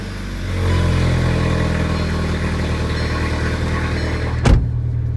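A VW MK6 GTI with DSG gearbox runs at a steady idle close by, its low engine rumble constant throughout, with a brief loud knock or thump near the end.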